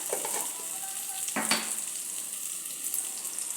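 Turmeric dropped into hot oil sets off a steady, close sizzle with a brief sharper crackle midway, frying on without any voices.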